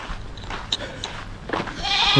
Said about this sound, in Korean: 저 염소도 마찬가지고